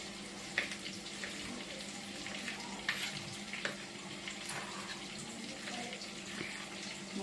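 Onions sautéing in a clay pot for fish curry: a soft continuous sizzle with occasional light clinks and stirring scrapes, faint and close, no talk.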